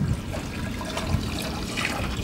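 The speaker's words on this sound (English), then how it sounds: "and then I pour that into the Berkey filter." Collected rainwater poured from a jug into a Berkey water filter in an off-grid tiny house, a steady close splashing and trickling stream running continuously without speech.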